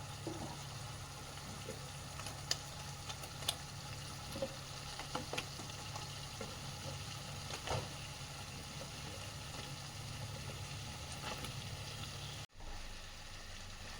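Mushrooms are stirred into a thick masala gravy on the stove: a soft, steady simmering sizzle broken by occasional faint spoon scrapes and clicks.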